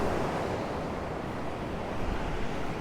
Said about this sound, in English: Still quite a few waves though.